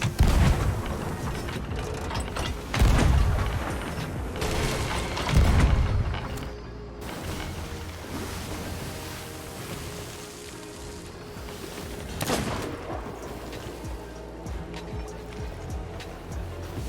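Ship cannons fire at a skeleton sloop near a fort in the Sea of Thieves video game, several heavy booms early on over rolling water and creaking ship sounds.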